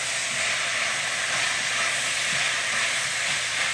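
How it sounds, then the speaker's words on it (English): Carrots stirred into a pot of simmering minestrone soup, heard as a steady close hiss and bubbling sizzle that runs evenly throughout with no talking. "I can throw my carrots in there. And I'm going to give it a good stir, just like this."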